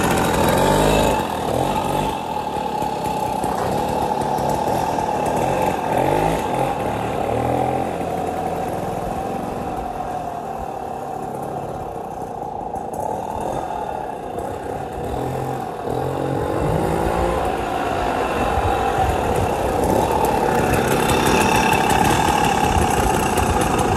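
A 1962 Mobylette AV48 moped engine runs steadily at close range, a loud continuous buzzing drone that rises and falls only slightly, with no talking.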